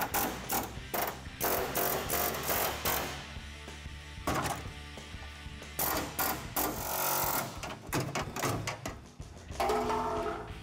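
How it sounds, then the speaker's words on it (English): Matco pneumatic air chisel knocking old spot welds loose on a 1971 Plymouth Cuda crossmember, a loud rapid metallic hammering in repeated bursts with short pauses between, close and harsh throughout. "Matco's air chisel finishes the job"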